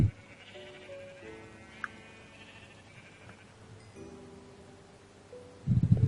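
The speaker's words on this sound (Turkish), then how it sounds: "Şurada hemen koyunlar var." Sheep in Minecraft bleat several times in short, tonal calls spread across the clip, fairly faint, followed by a sudden burst of louder rustling at the end.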